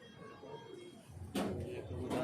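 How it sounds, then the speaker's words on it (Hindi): Pigeons coo faintly in an evening loft setting, with soft low calls rising in two brief louder bursts over a quiet background. "ये आ रहे कबूतर भाई,"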